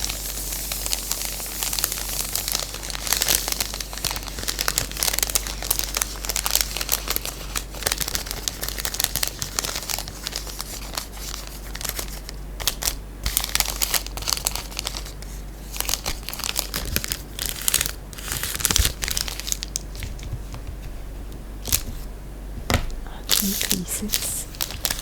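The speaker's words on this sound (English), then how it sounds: "It's very thin packaging and it sounds really nice, so I went back for more crinkling." Thin plastic candy packaging crinkles and crackles continuously up close, in dense bursts with brief pauses, amid soft ASMR-style handling sounds.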